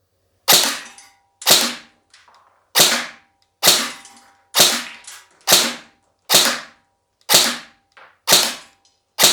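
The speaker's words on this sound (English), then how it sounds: "I'm going to try this one more time, just because I've never shot this gun." A Specna Arms RRA SA-C10 airsoft rifle fires about ten single shots outdoors, each a sharp loud crack with a short decay, spaced roughly a second apart in a steady rhythm.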